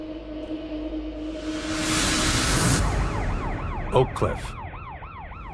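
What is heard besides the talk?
police sirens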